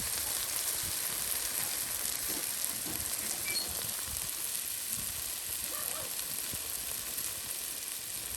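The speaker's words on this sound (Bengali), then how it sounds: "তার সাথে গরম মশলা মিক্স করে দেওয়া হচ্ছে এখন রসুন ও পেঁয়াজ ভাজি করার সাথে।" Garlic and onion fry with ground spice paste and garam masala, giving a steady, even sizzle and hiss throughout with no speech.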